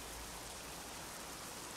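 Dense rain in Euro Truck Simulator 2 hisses as a continuous broadband wash, steady and fairly loud across the whole stretch, alone without talk.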